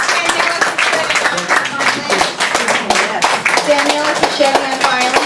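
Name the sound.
audience round of applause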